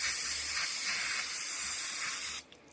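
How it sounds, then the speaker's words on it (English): A trigger sprayer mists Lysol Lime and Rust Remover onto rusty metal, giving a steady close hiss for just over two seconds before it cuts off abruptly. "So let's spray it down and see if anything knocks off."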